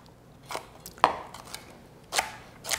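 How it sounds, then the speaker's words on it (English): A kitchen knife slices through leftover food on a cutting board while preparing slow-cooker chicken corn chowder, giving a few separate cutting taps and scrapes spaced about half a second to a second apart, close and fairly faint, with no talking. "And then you can just cut this leftover piece here in half."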